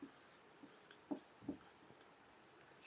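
Pen or marker writing on a board during a Class 6 science lecture, a few short scratchy strokes close by, quiet and sparse with no talking.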